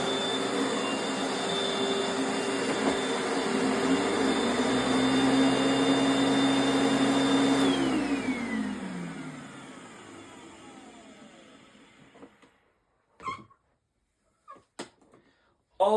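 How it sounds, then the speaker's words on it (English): A late-1980s Panasonic Jet Flow vacuum cleaner runs with a steady, loud whine and roar, then is switched off and winds down with a falling pitch. A few faint knocks follow in near silence. "This 80s model is a really okay vacuum cleaner."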